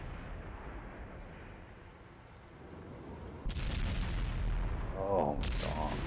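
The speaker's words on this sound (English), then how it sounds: "Dan's finally emptied that clip" Muffled bursts of gunfire fill a video game match as a weapon's magazine is emptied, fairly faint and continuous, with people talking over the later part.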